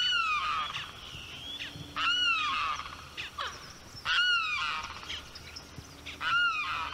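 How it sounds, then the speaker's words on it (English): A limpkin gives loud, wailing, honk-like calls, about four repeated cries spaced a second or two apart, close and clear over faint background noise. "you can't go 10 minutes without hearing a limpkin call"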